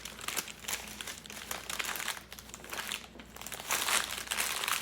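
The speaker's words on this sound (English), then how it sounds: "roll it up in the parchment" Parchment paper crinkles and crumples up close as a homemade butter log is rolled up in it, with dense, irregular rustling bursts and no talking.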